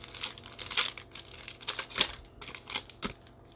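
Scissors snip and crinkle through foil trading card packs up close, a run of short sharp cuts and crumpling rustles in irregular rhythm.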